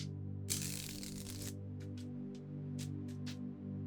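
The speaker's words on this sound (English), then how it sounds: "Oh my god, this deck doesn't want to shuffle." A deck of tarot cards being shuffled: a loud riffling burst early on, then several short, crisp card flicks, close up over a steady low hum.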